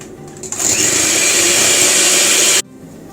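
An electric hand mixer whirs steadily as it beats egg with half a cup of coconut oil, starting abruptly, running loud and even for about two seconds, then cutting off sharply.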